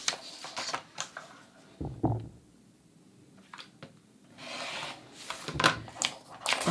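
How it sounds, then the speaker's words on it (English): Rotary cutter rolling along a ruler to trim the edges of printed paper pattern pages, giving soft, close scraping and swishing strokes with quiet gaps between them. "I'm going to use my rotary cutter and a ruler, and I'm going to trim the top and the right side."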